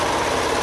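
Serger sewing machine running along a crop top seam, a dense, loud, continuous mechanical whir at close range with no voices over it.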